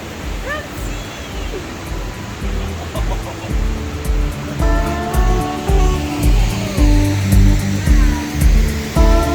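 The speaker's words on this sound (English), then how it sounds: "That's a great waterfall." A large forest waterfall gives off a steady, loud rushing roar throughout, while excited voices talk and exclaim over it.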